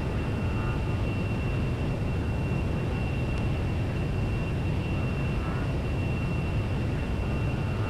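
A heavily laden jet loaded with ordnance rolls for takeoff in the Lock On flight simulator, a continuous loud engine roar with steady broadband rumble and a high whine, no speech.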